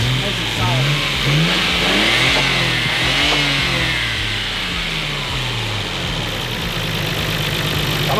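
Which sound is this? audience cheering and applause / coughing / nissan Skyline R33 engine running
nissan Skyline R33 engine running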